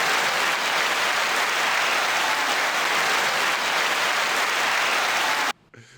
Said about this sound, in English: 9-second applause.